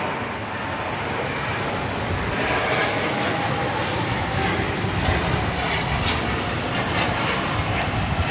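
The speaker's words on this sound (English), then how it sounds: "This is United Airlines 198 taking off to Shanghai on the 787-9 Dreamliner." A United Airlines Boeing 787-9 Dreamliner takes off from LAX for Shanghai, giving a loud, sustained engine roar that builds slightly and stays steady throughout.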